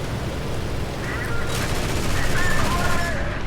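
A rear gunner's machine gun in the IL-2 flight game fires in rapid bursts over engine noise, sharp and fairly close during a short exchange.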